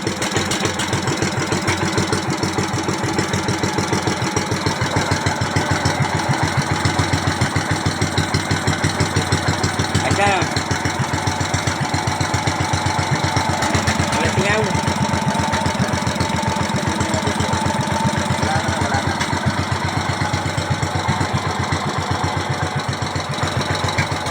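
A steady engine idles continuously with a low, even mechanical chugging throughout, loud and close, with no talking.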